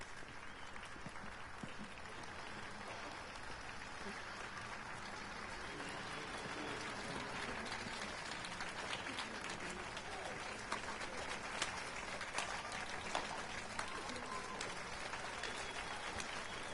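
Crowd applause in the Witcher 3 video game, a sustained wash of clapping that swells slightly partway through and carries on steadily, heard at moderate level without speech.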